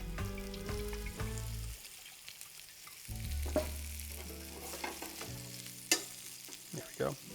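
Hen of the woods mushrooms pan-roasting in oil in a frying pan, giving a steady soft sizzle with occasional stirring scrapes and clinks, close and fairly quiet, without talking.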